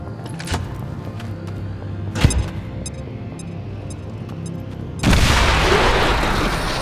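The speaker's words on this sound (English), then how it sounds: "Placing explosive. Fire in the hole!" An explosive charge goes off in the video game XCOM 2: scattered clicks and thuds lead up to a sudden loud blast of broad noise that then rumbles and hisses on, close and dominant.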